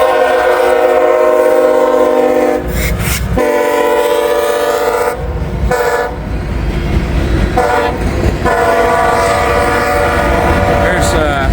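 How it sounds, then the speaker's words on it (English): A CSX freight train rolls down the line, its loud multi-tone horn sounding in long blasts that break off and resume several times over a steady rumble of cars and wheels, close by with no talk. "we got a CSX train coming down the line"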